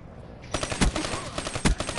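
Rapid automatic gunfire in Black Ops 3 multiplayer, a quick close burst of repeated shots with a couple of heavier booming hits, loud and alone after a brief quiet start.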